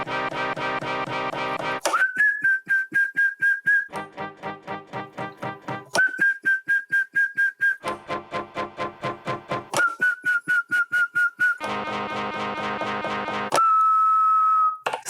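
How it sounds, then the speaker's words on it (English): A person whistles a short series of sustained notes, each one matched to a DJ cue point, alternating with stretches of rhythmic electronic music playback, close and clear without any speech. "You can, for example, sing or whistle each cue point by yourself"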